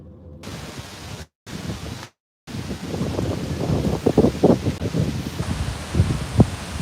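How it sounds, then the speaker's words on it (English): Strong wind buffets and roars across the microphone in gusty bursts, with a couple of brief dropouts early on, on a road trip in Erie. "And you can hear the wind, so it is always windy"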